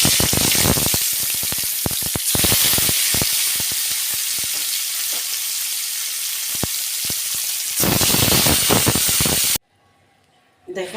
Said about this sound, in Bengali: নুন হলুদ মাখানো যে রুই মাছটা আছে সেটা আমি একটু ভেজে নেব।